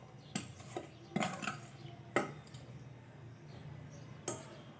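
Green chilli pickle is spooned into a container, producing a few sharp metallic clinks of spoon on tin, spaced irregularly over a soft wet background, quiet and close.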